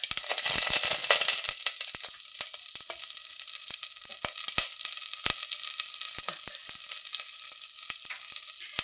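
Cream butter hits a hot pan for a potato and wild mushroom soup, flaring into a loud sizzle for the first second, then settling into a lower crackling fry with scattered sharp pops.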